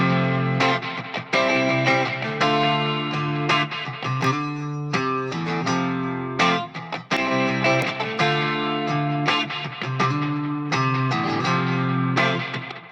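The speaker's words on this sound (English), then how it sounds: "I just follow that up with the Fox Echo chorus, and I'm just using one of the presets" Electric guitar played through a Safari Pedals Fox Echo chorus plugin preset, sustained chords and picked notes shimmering with a wide modulated chorus, loud and continuous with no talk.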